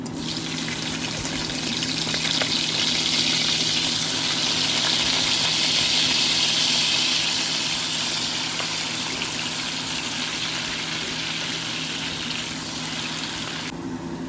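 Chopped onion fries in hot oil with a bay leaf and black peppercorns for a coconut shrimp curry, producing a loud, continuous hiss that holds steady and eases slightly toward the end.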